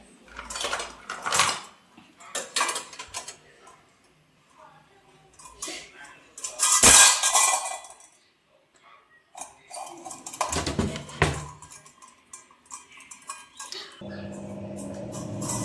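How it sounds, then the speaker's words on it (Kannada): Metal pots and utensils clatter and clang in scattered bursts, with sharp clinks and a loud crash midway, separated by quieter pauses. "ನೋಡಿ, ಎಲ್ಲ ಪಾತ್ರೆನೂ ತೆಗೆದು ಬಿಸಾಕ್ತಾಳೆ."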